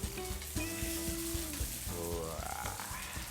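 Red chili peppers fry with petai beans in hot oil, giving a continuous dense sizzle and crackle with occasional stirring scrapes, close and steady throughout.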